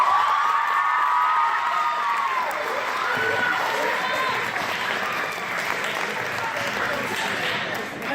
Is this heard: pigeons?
no